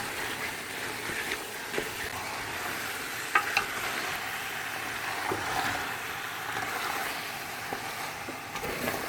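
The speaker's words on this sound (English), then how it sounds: "give it a mix, give it a really good mix." Chicken Sindhi biryani with masala is stirred in a pot over the heat, a soft continuous sizzle with occasional scraping clicks of the spoon against the pot, no speech.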